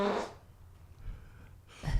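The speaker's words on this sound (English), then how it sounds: "I bought this chapstick that puts in fart sound effects." A novelty chapstick plays a fart sound effect, a short buzzing burst at the start and another near the end, with a quiet gap between them.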